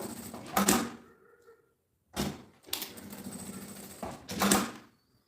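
Sewing machine running in short bursts while stitching the side seams of a folded fabric strap for a women's backpack, close and clear, with three separate runs broken by brief pauses.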